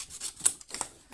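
Scissors snipping away the edge of a paper doily in a papercraft frame project, a few crisp close cuts in quick succession with one sharper snip standing out.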